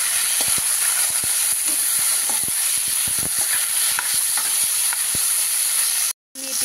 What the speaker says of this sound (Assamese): এতিয়া ইয়াতে চিকেনখিনি দি দিলো অকমান নিমখ দিছো এখিনি অকমান নিমখ দি মানে এটা ভাজি লম